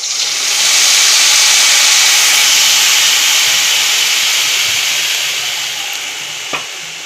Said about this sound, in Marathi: फोडणीमध्ये ओतूया